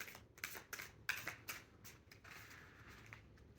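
Tarot cards from a deck being shuffled by hand, giving soft papery riffles and quick flutters in short bursts that trail into a quieter rustle, close up and faint, with no talk.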